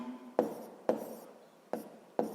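A pen or chalk writes out a maths solution in four short, sharp strokes, each tapping down and scraping briefly, spaced about half a second apart, close and quiet.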